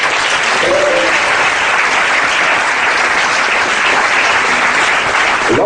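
Loud, steady applause from a large crowd at a prophet's ordination service, sustained clapping that fills the whole stretch without a break.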